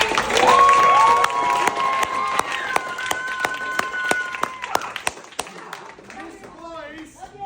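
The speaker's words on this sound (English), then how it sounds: "Can you give Holly a big round of applause?" Audience applause at a comedy sports show, a burst of clapping that thins out over several seconds with a sustained tone and chatter mixed in.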